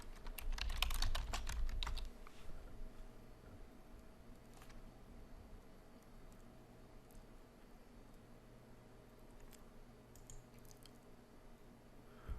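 Brisk typing on a computer keyboard, with a dense flurry of close key clicks up front that thins into sparse, quieter taps over a faint background hiss.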